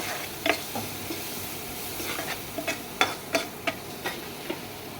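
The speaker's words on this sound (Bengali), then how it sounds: "দিয়ে ভালো করে আমি নেড়ে চেড়ে নেবো।" Chinese pasta ingredients with turmeric, chili powder and salt being stirred in a pan over a soft sizzle, with a series of distinct spoon taps and scrapes against the metal, close and moderately loud, no voices.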